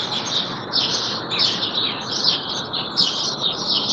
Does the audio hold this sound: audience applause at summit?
no